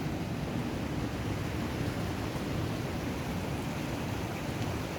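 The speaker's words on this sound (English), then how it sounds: "you can hear the rough roaring East Coast River, East Coast Sea water at Cattle Wash." Steady, continuous roar of rough East Coast sea water at Cattle Wash, St. Joseph, Barbados, broad and noisy with no breaks, loud and close throughout.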